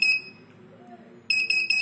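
An RFID door access reader gives short high electronic beeps when an invalid card or key fob is presented: one beep at the start, a pause, then a rapid run of several beeps near the end.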